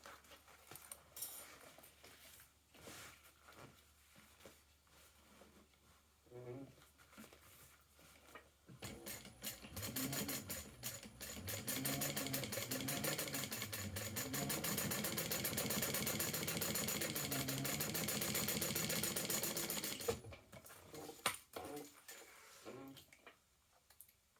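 A sewing machine top-stitches the side panel of a sewn project in one steady, loud run of rapid mechanical whirring lasting about ten seconds, with quieter handling noises before and after.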